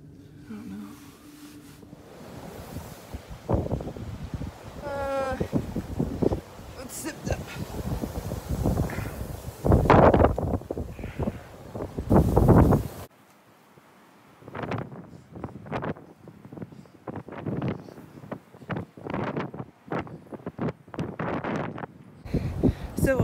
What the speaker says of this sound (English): So I imagine you guys know it's windy. You could hear it.